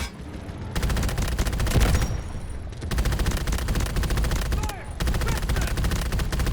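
Rapid bursts of automatic gunfire from a QBZ95-1 rifle in the shooter game Delta Force, loud and dense, coming in several long volleys separated by short pauses, with a voice talking over parts of it.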